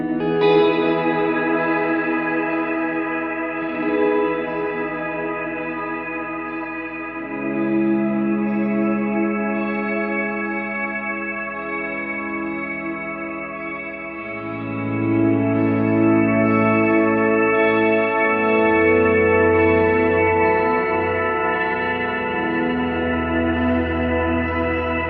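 Electric guitar through a NUX Duotime dual delay pedal with shimmer reverb, sustained chords ringing into long, layered washes that swell and shift pitch, steady and full with no talking.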